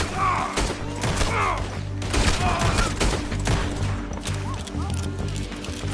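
Gunfire in Red Dead Redemption II sounds as a loud volley of shots mixed with thuds and horse hooves, voices talking over the clatter in a busy frontier shootout.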